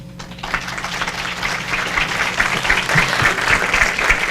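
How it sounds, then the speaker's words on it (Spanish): Sustained audience applause fills a forum hall on domestic work and the care economy, a steady wash of many clapping hands at moderate loudness with no talk over it. "Un aplauso"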